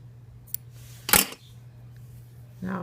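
Scissors trimming thread while a baseball is sewn together: one sharp, brief snip stands out clearly, preceded by a faint tick and followed by a soft rustle, with low hum in the background and no talking.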